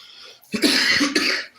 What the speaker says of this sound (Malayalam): അതുകൊണ്ടാണ് എനിക്ക് ചുമ വന്നത്